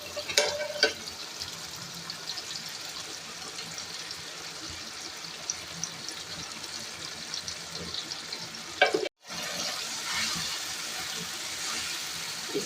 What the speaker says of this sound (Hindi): आलूओं की भुनाई अच्छे से हो गई है।